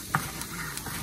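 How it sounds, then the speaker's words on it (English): Diced onions frying in a pan, a steady close sizzle with a couple of stirring scrapes and clicks on top, no talk. "So you see how nice and golden these guys are? Onions are starting to sweat."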